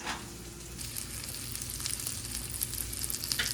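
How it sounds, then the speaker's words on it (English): Fish fillets and mushrooms sautéing in butter in a pan for panko-crusted fish, a continuous close sizzle and crackle with faint spatters, heard alone without talk. "I'll saute all this stuff"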